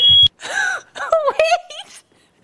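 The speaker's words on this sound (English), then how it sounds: "the fire alarm might go off because I see a lot of smoke coming out" A smoke alarm set off by cooking smoke gives a short, loud, piercing electronic beep at the start, followed by a startled person's vocal wails and exclamations.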